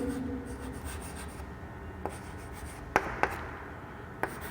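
Pen scratching on paper while writing out accounting entries, soft continuous scraping with a few sharper taps, close and quiet, no voices.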